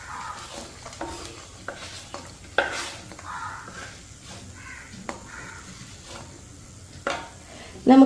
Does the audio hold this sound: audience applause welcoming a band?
no